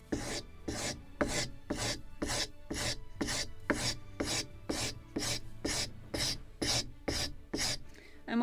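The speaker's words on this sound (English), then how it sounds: "And with a sanding block I can shape it." Steady back-and-forth rasping of a sanding block shaping the wooden hull of a model gunboat, about two strokes per second, close and dry, with no voices.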